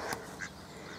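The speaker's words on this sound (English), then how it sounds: "Oh, and the ducks." Ducks quacking outdoors at a mill pond at low level, a couple of short calls over a steady background hiss.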